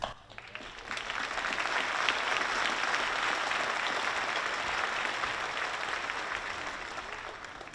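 Applause fills a university commencement ceremony. The crowd claps in a dense, sustained wash after a quiet start, then gradually tapers toward the end, with faint voices underneath.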